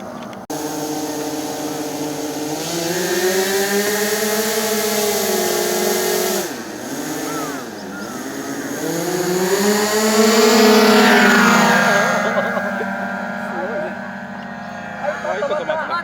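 Four small two-stroke engines on a large four-engine radio-controlled model airplane drone with high, buzzing tones that rise and fall in pitch together, swelling and dipping as the throttle changes, loud and close throughout.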